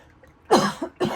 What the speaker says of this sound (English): My throat, like I started just like coughing and I'm not sick